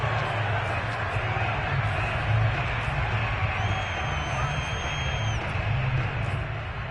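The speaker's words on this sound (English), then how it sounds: "Plenty of shouts from this crowd as they watch the replay" A football crowd shouts and cheers while a replay is shown, a broad rumbling roar from a large audience with scattered whoops and one faint whistle, steady across the whole stretch.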